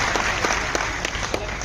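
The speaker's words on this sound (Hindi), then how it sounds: "जोरदार ताली बजाकर" An audience at a village religious discourse gathering in Kaya, Harda, Madhya Pradesh claps loudly, a dense continuous applause with sharp individual claps standing out throughout.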